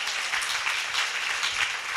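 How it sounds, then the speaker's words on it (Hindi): Steady applause from an audience, a dense wash of many hands clapping at moderate loudness for a couple of seconds, no voices over it. "अब बजाओ ताली।"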